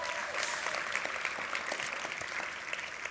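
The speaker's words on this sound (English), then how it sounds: "Big round of applause for everybody on the stage" Audience applause at the closing of a two-day conference summit: steady, dense clapping from a sizeable crowd, sustained evenly throughout without talk over it.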